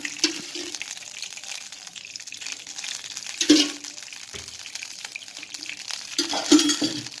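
Ghee heating in a pan (tava) in a home kitchen, giving a steady low sizzle and crackle with a few louder spits and clatters, close by and with no talk.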